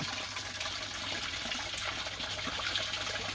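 Water gushes fast from a pipe into a koi pond, a steady, loud, continuous rushing and splashing that runs unbroken from start to finish.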